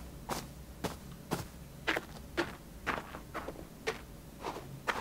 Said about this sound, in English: This scene better shows off the footsteps changing sound based on the material.